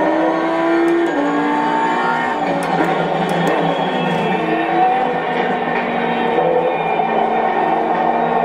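Lamborghini race car in the Assetto Corsa Competizione racing game, its engine loud and continuous with rising and falling revs through gear changes, heard alone without talk.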